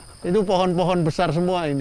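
Crickets chirp at night in the Pangandaran nature reserve, giving a steady, high, continuous trill. A voice talks close up over it throughout.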